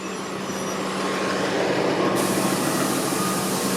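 City bus number 1358 pulls up to a stop on Glencairn Avenue in Toronto's North York, its engine a loud, steady close rumble with broadband road noise that grows slightly toward the end.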